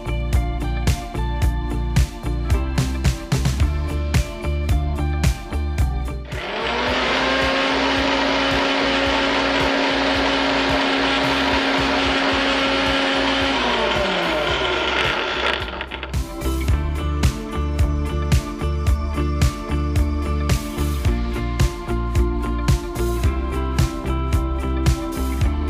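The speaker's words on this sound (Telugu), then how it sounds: "ఇప్పుడు దీన్ని మిక్సీ పట్టేద్దాం." A mixer grinder blends a milk smoothie with melon seeds, running loud and steady for roughly nine seconds, then cutting out, set amid quieter kitchen clatter before and after.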